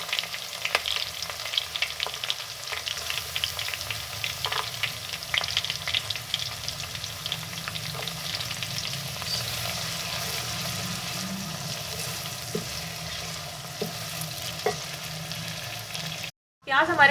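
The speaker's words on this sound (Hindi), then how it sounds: "प्याज हमारे ब्राउन हो रहे हैं," Onions fry in a pan with cumin, cooking toward golden brown in a steady, close sizzle with occasional stirring scrapes. It continues throughout, broken only by a brief gap near the end.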